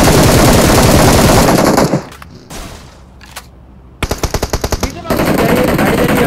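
Rapid bursts of automatic gunfire in a battle royale shooter, loud and close, ending abruptly, followed by a quieter pause with a few isolated shots and then renewed sustained firing with a pulsing rhythm.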